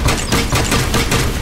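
A cartoon lightning strike crackles loudly and continuously, a dense electric sizzle with repeated sharp bursts and no voices.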